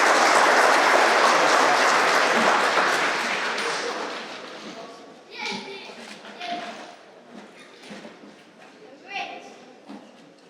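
Loud, full applause from a graduation ceremony crowd at RISE Academy 2024 welcomes valedictorian Hayaan to the stage, then fades away over several seconds as scattered sounds and a voice take over.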